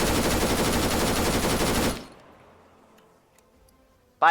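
An auto rifleman's machine gun in the Arma 3 video game fires a loud, dense sustained burst for about two seconds, then the report trails off into a fading echo, with a sharp sound returning at the very end.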